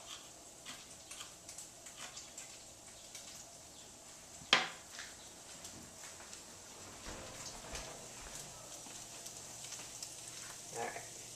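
Ground meat and garlic brown in a pan with a soft, faint continuous sizzle, broken by a single sharp utensil tap and a few light stirring clicks.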